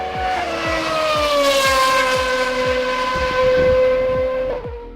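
A Honda Super GT race car with a high-revving 3.4-liter V8 HR10 engine shrieks close by, its piercing note sliding down and back up through rapid gear changes, punctuated by regular sharp shift pops.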